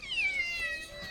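A cat on a rooftop terrace gives one short, clear meow that rises and then falls, heard close and alone.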